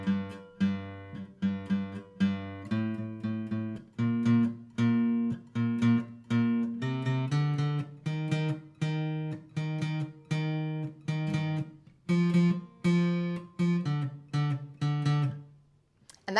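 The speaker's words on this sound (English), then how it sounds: "So I'm going to play through the bass line for you now so you can hear what we're going to be working on." A song's bass line played on a capoed guitar: a steady run of clear plucked low notes in a repeating rhythmic pattern, close and alone with no talking.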